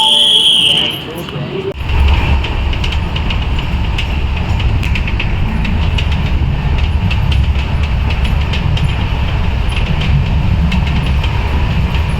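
A passenger train at a Mumbai-bound station platform produces a loud, steady rumble that fills the whole stretch, preceded by a brief high tonal beep at the start, with voices faintly mixed in.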